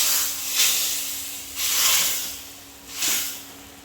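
Hot oil tempering with asafoetida poured into cooked chana dal with spinach, giving three broad hissing sizzle bursts that swell and fade, close and fairly loud.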